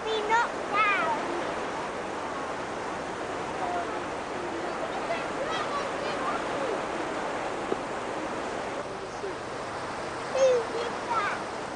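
Floodwater rushing and surging in a steady broadband wash, with voices talking over it throughout.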